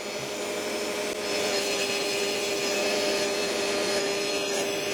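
A BISSELL ProHeat 2X Revolution Turbo carpet cleaner drying a carpet spot with suction, giving a loud, continuous motor drone and rushing air with a steady whine.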